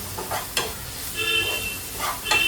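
Mushroom masala sautéing with spices in a pan, giving a soft, steady sizzle with brief scraping stirs of a spoon at intervals, close and moderately loud, with no talking.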